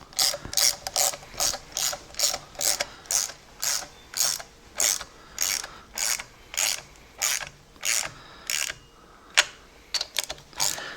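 A ratchet wrench snugs lock nuts on the water pump of a 1986 Mercury 90 hp outboard, giving loud, close, regular bursts of rapid clicking strokes with no talk.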